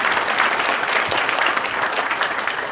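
A crowd at the launch ceremony of a committee opposing the THAAD deployment in Seongju applauds loudly, with dense, steady clapping throughout and little talk.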